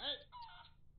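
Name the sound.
chicken clucking in the video game Barn Finders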